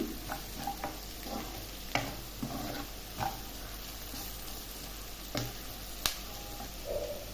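Chili powder and spices sizzle gently in a hot pan for rajma curry while a utensil stirs and scrapes, with sharp clicks against the metal at irregular intervals, close up.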